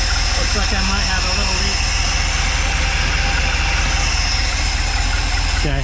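Mopar car engine idling on a rebuilt carburetor, a constant loud rumbling drone close by, with someone talking over it.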